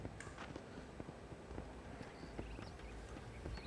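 Horse hooves in the game Minecraft, clip-clopping in an uneven walking rhythm at moderate, close level, alone with no talk over them.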